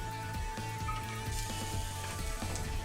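Steady, soft sizzling of shallots in olive oil in a frying pan, a continuous crackle with faint pops and a low background hum.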